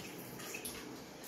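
Pre-prepared water poured into a tray to wash black and white 4x5 sheet film gives a steady close splashing and trickling, faint and continuous throughout.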